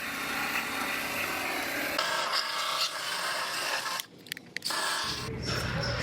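Abrasive scrubbing or sanding of bare metal on a Dodge Durango rocker panel, prepared for spot welding: a continuous close rasping that changes pitch partway through, breaks briefly for a couple of gaps, then resumes loudly.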